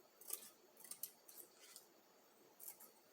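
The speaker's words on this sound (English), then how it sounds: "So I am going to cut a string of bling" Scissors snip a strip of plastic rhinestone trim, a string of bling, off a roll while decorating flip-flops. Several quick, faint, crisp cuts sound close up in a quiet room.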